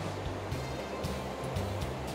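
Ocean waves break onshore at Cateel, Davao Oriental, whipped up by the northeast monsoon: a steady, loud wash of surf with rolling low rumbles and no voices.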